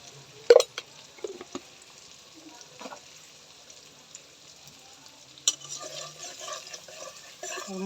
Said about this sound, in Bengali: মশলাটা তেলে ভালো করে ভেজে নিব।